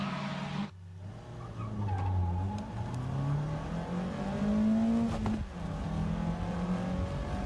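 A Nissan Pulsar and other race cars launch hard at a race start, with engines revving and rising in pitch together and tires squealing, loud and close with no voices.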